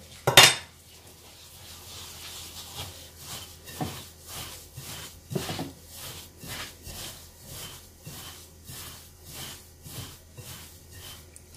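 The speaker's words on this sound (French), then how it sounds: "Je vais mélanger." A utensil stirs a chocolate and coconut mixture in a bowl, with a sharp clink at the start, then a steady rhythm of soft scraping strokes repeating about once a second, close and fairly quiet, with no voices.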